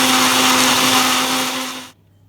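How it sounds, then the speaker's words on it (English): A blender whirs loudly and steadily as it purées pineapple into juice, then shuts off abruptly, leaving near silence. "this pineapple into the blender so it can become into a juice. So we're just going to let this blend for approximately 30 seconds."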